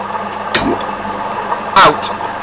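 A 2-horsepower electric motor driving a rotary phase converter on 240-volt input gives a steady, close mechanical hum, broken by a couple of sharp clicks or knocks.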